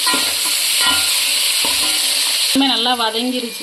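Fried onion, tomato and salt are stirred in a sizzling pan, with steady frying hiss and a few utensil scrapes, then a brief voice-like warble near the end, all close and fairly loud.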